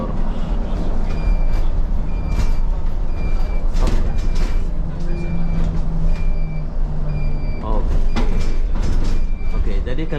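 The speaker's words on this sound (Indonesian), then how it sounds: "Oke, jadi kalian boleh dengar bus-bus ini." Buses fill a busy Kuala Lumpur bus station with a low engine rumble and hiss, repeated reversing beeps and a passing hum, while people talk nearby.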